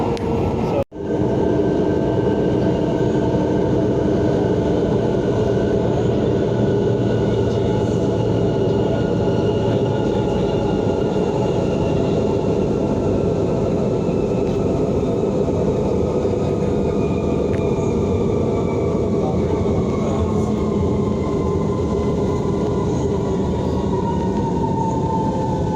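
Steady rumble of an MRT metro train in Manila riding along the rails, continuous and close, with a faint high whine rising and falling over the clatter.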